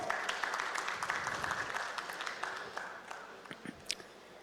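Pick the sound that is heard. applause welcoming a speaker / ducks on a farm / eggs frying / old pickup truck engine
applause welcoming a speaker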